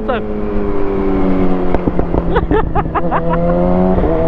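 A Kawasaki Ninja ZX6R sport bike rides with its steady engine drone running throughout, loud and close, while someone talks over it continuously.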